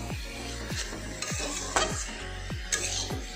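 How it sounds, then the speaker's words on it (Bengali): Pumpkin and prawn curry with spices is sautéed in a pan, a spatula scraping and clinking in a quick rhythmic stir over a constant sizzle, up close. "এবার আমি এই তরকারিগুলোকে ভালো করে কষিয়ে নেব"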